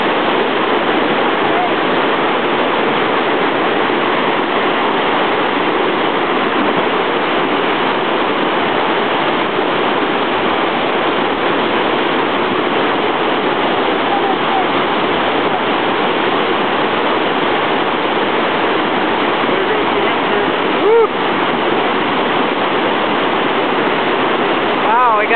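Water roars continuously over a dam, a loud steady rushing wash that carries a huge ice sheet with it, with faint talk barely above the torrent.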